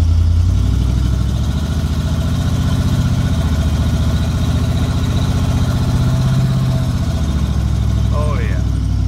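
An old International Travelall engine runs steadily with a low, even rumble and slight rises in pitch as the transmission shifts, close and continuous, with a brief chirp near the end.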